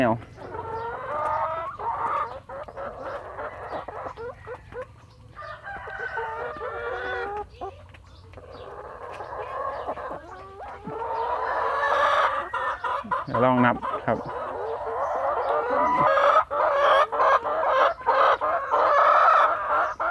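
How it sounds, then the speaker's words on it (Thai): Twenty laying hens cluck and squawk close by in a steady, busy chorus, with a rooster crowing among them and someone talking briefly over the flock. "ไก่ไข่ครับ ทั้งหมดมี 20 ตัวครับ"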